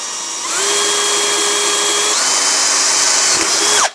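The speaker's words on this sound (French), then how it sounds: "Ça va, ça se perce quand même assez facilement." A power drill with a small bit bores pilot holes to mount a reinforced kickstand on a Dualtron electric scooter, whining steadily and loud for about three seconds after spinning up, then winding down abruptly.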